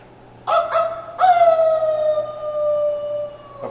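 A person imitates a werewolf howl in a scary sound effect, giving a couple of short yelps and then a long, falling, wavering howl that dominates the clip near and loud.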